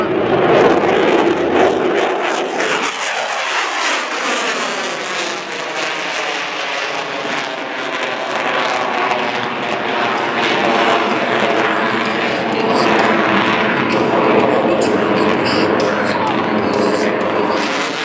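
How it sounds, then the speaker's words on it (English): A US Air Force F-22 Raptor fighter jet roars past at the NAS Jax airshow, a loud, sustained engine rumble whose pitch sweeps and shifts as the aircraft passes, filling the whole stretch. "Your United States Air Force F-22 Raptor."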